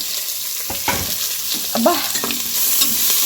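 Onions fry in a pan in a Tulu home kitchen with a strong, steady close sizzle. A few scraping stirs cut through it, and a voice briefly exclaims.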